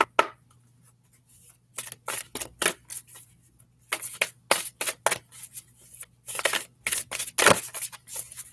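Oracle cards are handled as one is drawn from the deck, with a series of close, sharp shuffling flicks and slides in quick irregular bursts over a faint low hum.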